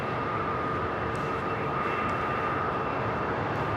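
Jet airliner engines at Los Angeles LAX airport, a steady broad roar with a faint high whine, heard at a distance and holding level throughout.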